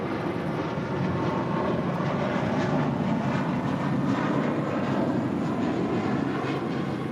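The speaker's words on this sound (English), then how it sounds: "This is JetBlue Airways 1570 departing to Cancun on an A320" A JetBlue Airbus A320 departs LAX for Cancun, giving off a continuous, moderately loud jet roar with a low rumble that stays even throughout, no voices present.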